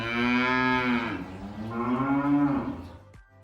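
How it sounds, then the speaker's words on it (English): A cow lowing twice, two long drawn-out moos close to the listener, each rising and then falling in pitch, separated by a short breath-like pause. "How does a cow sound? Here's a cow."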